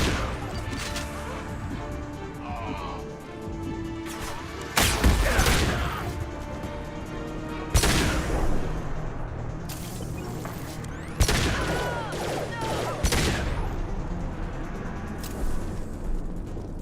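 Gunfire in Mass Effect 2 arrives as several loud bursts and crashing impacts spread across the span, over a continuous combat background with no talking.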